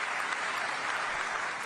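A crowd at a PM Kisan Divas event in Raipur claps loudly and continuously in a dense, even burst of applause.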